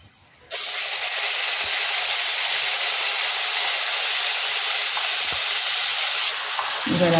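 Onion paste sizzling in hot oil: a loud, steady close hiss starts abruptly after a brief quiet moment and holds evenly, with a few faint knocks and a slight drop near the end.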